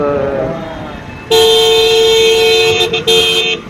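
A car horn blares in a long steady honk with two brief breaks near the end, loud and close, preceded by faint background noise, in heavy night traffic at RK Beach, Vizag.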